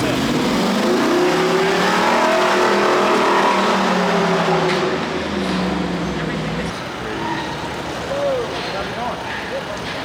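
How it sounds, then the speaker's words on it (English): A Ford Bronco Raptor's exhaust revs loud and close, with a broad engine roar rising and falling over about seven seconds before easing off into rougher road and wind noise. "Listen to the exhaust on that thing, you guys."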